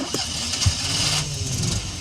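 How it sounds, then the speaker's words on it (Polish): A Fiat 126p engine cranks and catches, a rough mid-pitched car engine sound turning over and settling into a running rumble, heard close in a short burst. "Tu jest ogrzewanie, tu jest ssanie no to spróbujmy go odpalić."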